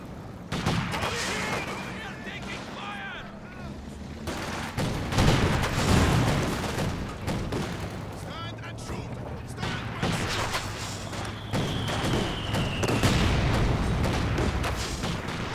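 Mortar barrage in Company of Heroes 2, a 2v2 match where a mortar shells a 50 cal position: repeated thumping blasts and booms with scattered gunfire under steady caster commentary.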